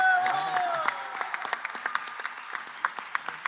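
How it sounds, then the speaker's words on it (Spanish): Audience applause for a payador singer at a folk gathering, starting as a sparse scatter of individual claps over a fading sung or spoken tail and settling into irregular, moderately close clapping. "fuerte el aplauso para él"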